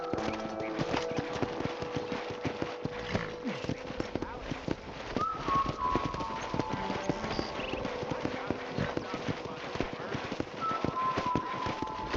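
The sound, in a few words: horse hooves clip-clop, Red Dead Redemption video game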